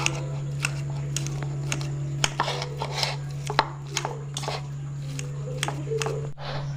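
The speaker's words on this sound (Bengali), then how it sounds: "দেখো আলুটা আমি ম্যাশ করে নিচ্ছি কাঁটা চামচ দিয়ে।" A fork mashes boiled potato for a homemade fuchka filling, making a series of soft, irregular taps and squelchy clicks close by over a steady low hum, with faint talking underneath.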